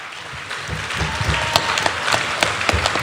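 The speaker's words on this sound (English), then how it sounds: "would you please give a huge round of applause for our entire panel?" Audience at an industry celebration event applauds the entire panel, a dense round of clapping with distinct sharp claps near the front and a bass-heavy background underneath.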